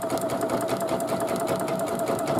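An embroidery sewing machine stitches fabric held in a hoop, giving a fast, steady mechanical clatter with a rapid even rhythm and a constant whirring tone, close by and alone.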